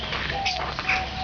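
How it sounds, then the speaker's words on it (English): Noisy birds at a backyard feeder where wild ducks also come to feed, calling in a few short, shrill bursts over a steady outdoor background, fairly close. "here are the noisy birds"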